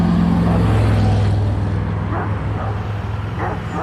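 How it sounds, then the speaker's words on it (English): A large dog barks from nearby along a rural road in Georgia on a trail hike, a few low woofs over steady engine-like rumble and road noise, with no talking. "That's a big boy barking at me right there."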